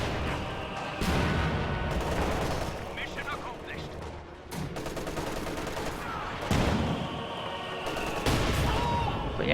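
Battle gunfire from Obersoldaten infantry in a World War II strategy video game, rapid rattling volleys and booming blasts in dense bursts, loud and close, with a commentator speaking over the action.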